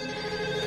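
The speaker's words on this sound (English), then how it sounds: "My phone is ringing" A mobile phone rings, a short steady electronic tone heard alone and fairly faint.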